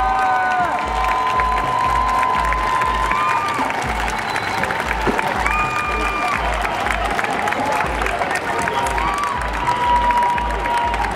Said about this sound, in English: cheering and clapping the ambulance as it went by